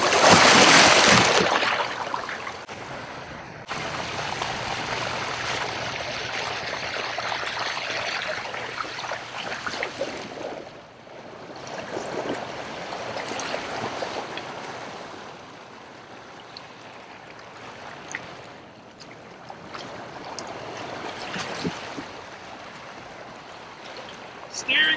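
A Jackson Kayak CoosaX pedal kayak moves fast across the water, giving a steady rushing wash and trickle of water along the hull, close and continuous with slight swells in level.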